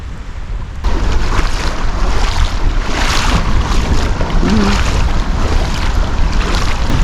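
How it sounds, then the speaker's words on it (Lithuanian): Rough, churning sea surf and gusting wind on the Latvian coast near Irbe, a steady loud roar of waves with heavy wind buffeting the microphone throughout. "Jūra maišos."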